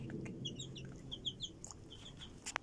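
Chickens in a coop give a few soft, scattered clucks and chirps over low background noise, fairly quiet and irregular, with one sharper tap near the end.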